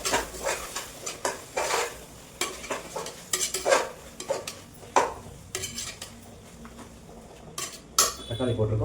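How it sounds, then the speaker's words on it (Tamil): Tomatoes sauté with ginger garlic paste for egg biryani while a metal spoon repeatedly scrapes and clanks against the pot over a low sizzle, in irregular bursts. "தக்காளி போட்டிருக்கோம். நல்லா வதங்கட்டும்."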